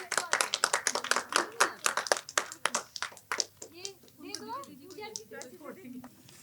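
Clapping by a small group at an IAS and UPSC success party as two young women are garlanded with flowers; sharp, uneven hand claps that thin out, with children and others chattering underneath.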